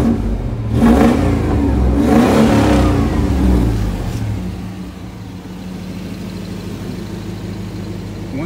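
A GMC truck engine revs up in a couple of loud, close bursts, then eases back to a steady, rumbling idle that runs on alone.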